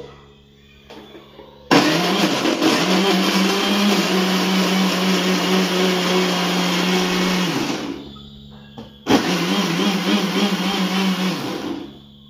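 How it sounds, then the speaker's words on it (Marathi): A mixer grinder grinding masala paste whirs loudly for several seconds, stops briefly, then roars again for a second burst before cutting off. No talking. "आता मिक्सर चालू करतो."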